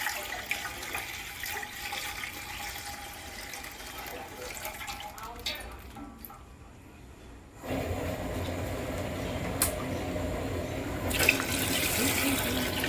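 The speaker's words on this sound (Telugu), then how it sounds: "20 మందికి 2 లీటర్ పాలు వేస్తున్నాను." Milk being poured into a pot makes a continuous watery flow, soft at first, then fuller and louder after a brief lull, with a voice speaking faintly in the background.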